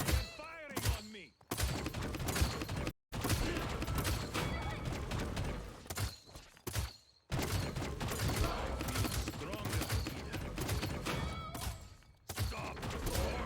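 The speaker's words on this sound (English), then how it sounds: "They're firing on me." Weapon fire in the hero shooter Paladins, heard as dense, continuous bursts of rapid shots with metallic mechanical clatter and a few abrupt silences. The shooting runs through most of the stretch at moderate loudness, and game voices mix in.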